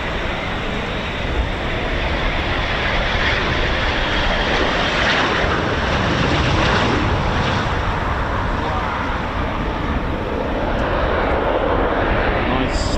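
A Eurofighter Typhoon FGR4 jet lands at RAF Coningsby, giving a loud, continuous broadband roar that holds steady throughout, with a commentator talking over it.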